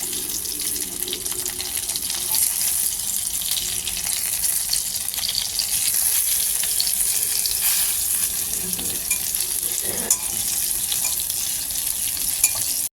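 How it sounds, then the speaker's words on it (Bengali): Sliced brinjal frying in a little oil in a pan, a continuous bright sizzle and crackle steady throughout with occasional stirring clinks, no talking. "আর একটু ভাজা হবে"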